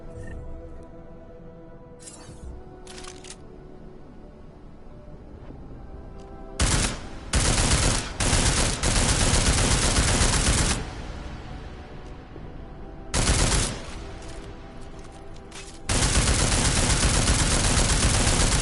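Bursts of weapon fire from the video game Deus Ex: Mankind Divided, including armor-piercing rounds: several loud, sustained automatic volleys separated by pauses, with a final long burst, and no talking.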